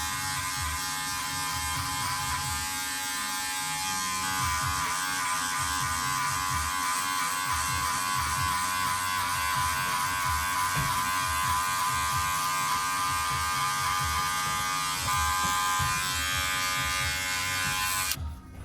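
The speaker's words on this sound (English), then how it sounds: "close my clippers lever all the way through so it's completely zero" Electric hair clippers buzz steadily and close up throughout a skin fade haircut in a private barber studio in London, a continuous motor whine with slight shifts as they move over the head.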